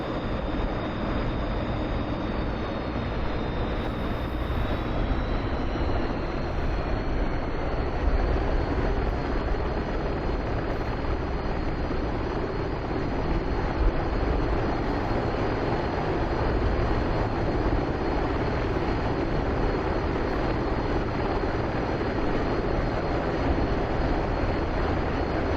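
An HH-60 Pave Hawk helicopter lifts off in the DCS flight simulator during a water search-and-rescue sortie, with a steady loud roar of engine and rotor and a faint high whine.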